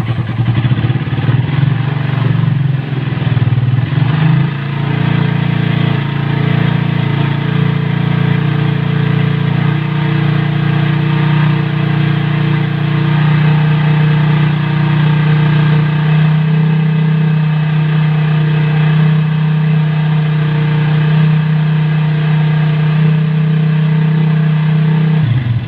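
Motorcycle engine revved with the throttle while in gear, a steady loud drone held for the whole stretch with a slight rise in pitch partway through and no talking.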